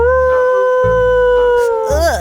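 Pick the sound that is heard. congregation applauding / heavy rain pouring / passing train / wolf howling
wolf howling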